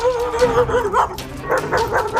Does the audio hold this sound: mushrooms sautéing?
no